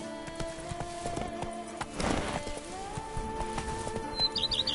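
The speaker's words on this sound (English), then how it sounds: "Even a horse trots if you ride it at a constant gallop." Hooves of a horse named Roach clip-clop in a steady trot in a PS4 video game, with tonal music underneath and a brief rushing swell midway.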